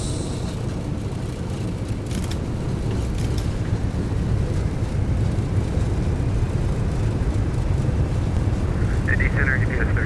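An MD-11 in the X-Plane 12 flight simulator lands with thrust reversers deployed. A loud, steady, broadband engine roar runs throughout, and a voice is heard over it.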